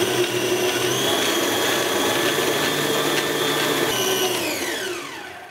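A stand mixer fitted with a dough hook kneads Dorset dough cake dough at medium speed, giving a steady, loud motor whine with a rhythmic churning hum that runs throughout and winds down slightly at the very end.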